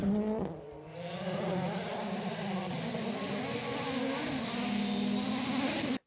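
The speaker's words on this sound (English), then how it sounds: "The pops between the gears." WRC rally car engine droning at high revs with harmonic tones sliding up and down, a sharp pop and shift near the start, sustained loud engine note then abrupt cut at the end.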